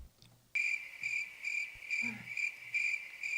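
A cricket chirping sound effect played as a comedic joke: loud, close, evenly spaced bursts of high trilling chirps repeating steadily after a short quiet opening, with no talk over them.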